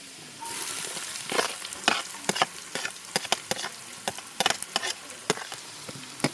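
Onion and garlic frying in hot oil in a pan, a steady close sizzle broken by frequent sharp scraping clicks of stirring.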